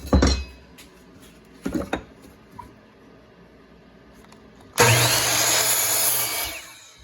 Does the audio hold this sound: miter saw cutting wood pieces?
yes